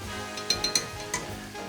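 Spoon knocking against a pot as tomato paste is stirred into softened vegetables for beef short ribs: four or five sharp metallic clinks in quick succession, close and fairly quiet, no talking.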